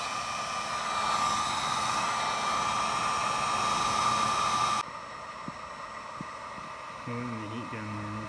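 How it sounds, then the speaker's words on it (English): A heat gun shrinks a solder wire splice, blowing with a loud steady roar and whine for about five seconds before it cuts off, leaving quieter room noise and a brief voice near the end. "The heat gun."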